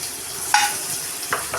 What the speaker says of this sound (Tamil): பேன் ஹீட் ஆகிடுச்சு. பட்டர் சேர்த்துக்கிறோம்.